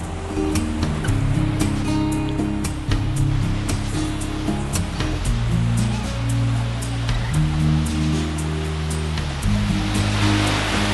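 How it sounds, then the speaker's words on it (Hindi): Rushing water pours loudly and continuously at a dam near a lake in Lonavala during the monsoon, a dense roar with occasional splashes and a low rumble underneath, heard close by. "यहाँ पानी का फ्लो थोड़ा ज्यादा है"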